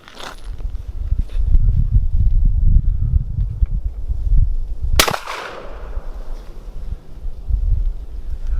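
A Mossberg 183 KE .410 bolt-action shotgun with a 24-inch barrel fires a single sharp, loud shot outdoors midway through, under steady wind rumble on the microphone.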